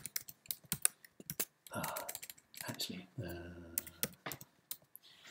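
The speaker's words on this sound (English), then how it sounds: "everyone's going to have to watch me badly typing" Someone types on a computer keyboard in quick irregular bursts of close, crisp clicks, with short pauses between the bursts. Someone talks intermittently over the typing.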